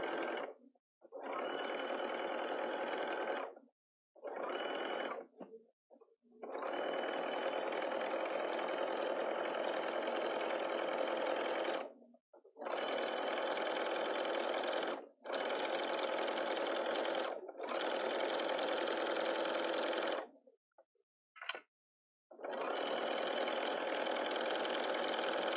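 A sewing machine stitches a market bag in a series of steady bursts, each running several seconds before a short pause, close and loud with no talking.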